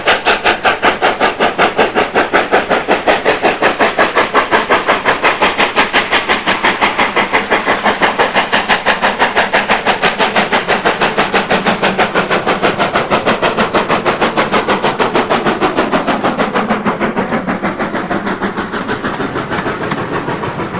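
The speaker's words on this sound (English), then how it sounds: "LMS Class 2 262 41241 in Damon's Cutting in February 2004." LMS Class 2 2-6-2 tank locomotive 41241 works through a cutting in February, its exhaust beating in a fast, very regular, loud rhythm that runs steadily for about twenty seconds, easing slightly near the end.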